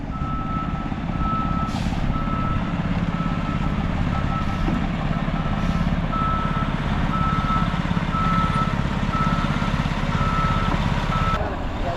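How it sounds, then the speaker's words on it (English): A concrete truck at a driveway job reverses with a steady string of evenly spaced reversing beeps over a loud, rumbling diesel engine, close by, with faint voices in the background. "The second concrete truck just arrived."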